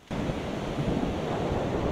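Ocean waves and surf roar in steadily after a brief quiet start, a dense, loud, constant wash of breaking water with no voices.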